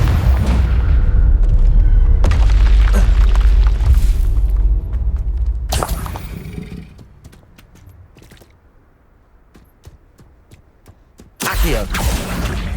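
Bursting spell explosions from a Hogwarts Legacy battle, loud booming blasts arriving in separate heavy hits with quieter magical crackle and effects between them.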